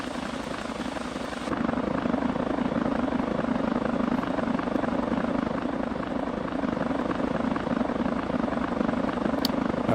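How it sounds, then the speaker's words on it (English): Helicopter rotor noise from the GTA 5 British police mod, a dense continuous whirring drone that swells in at full loudness after a quieter start and holds steady throughout, with no talk over it. "Try the helicopter sounds as well."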